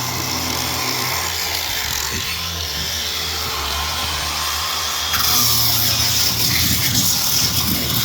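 A power sander with its trigger taped down runs continuously across a wooden deck, a steady loud mechanical whir that grows harsher and louder partway through.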